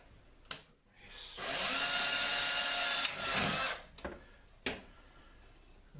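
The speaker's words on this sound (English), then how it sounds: "I'm going to drill out every one of those holes." A power drill whirs in a few high-pitched bursts while drilling out holes in a plastic strip, one long run of about three seconds, with clicks and knocks between.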